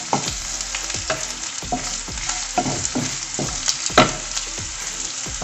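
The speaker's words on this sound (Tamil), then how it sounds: "இது இந்த ஒலிவ் ஆயிலில் நல்லா வதக்கிக்கலாம்." Onion sizzling and frying in hot olive oil, with repeated stirring scrapes at an irregular rhythm, close up and steady, no voices.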